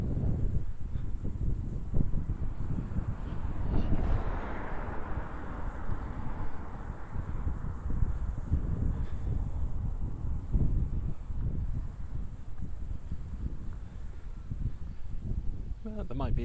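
Wind buffets the microphone with low rumbling gusts throughout, while a person talks outdoors in Connah's Quay, North Wales, on a summer day.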